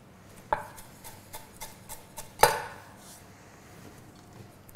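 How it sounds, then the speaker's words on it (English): A kitchen knife, held upside down, bashes and chops lemongrass on a board for a Thai green curry, giving a few sharp, close knocks with one heavy thump amid quieter taps and no speech. "we're going to use the knife upside down just to bash it, break it open"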